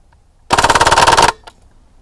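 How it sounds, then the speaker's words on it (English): An Umarex M1A1 CO2 BB gun fires full auto at K-cups in cold weather on low CO2: a single loud, rapid burst of shots lasting under a second, followed by a faint click shortly after. "we're going to go full auto and see what we'll do with those K-cups."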